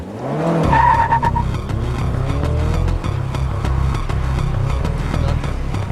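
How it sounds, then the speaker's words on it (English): A Pontiac Solstice sports car out on a race track, its engine droning loud and steady with a brief tire squeal near the start. "So now that we're out on the track in this Pontiac Solstice"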